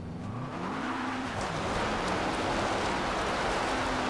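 Subaru Impreza rally car spinning donuts in Forza Horizon 2, a loud, steady engine held at high revs with rising and falling pitch, under continuous tyre and gravel noise.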